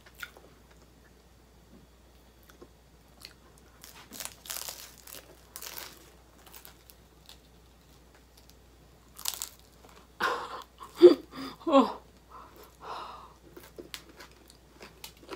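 Crispy oven-baked spring rolls, not fried, are bitten and chewed at close range in scattered crunchy bursts, with a dense cluster of loud crackling bites near the end.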